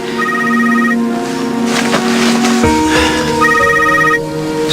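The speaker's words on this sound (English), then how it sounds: "It's Ronan's phone. It's a blocked number." A telephone rings in repeated ring bursts over a steady tonal background, loud and close.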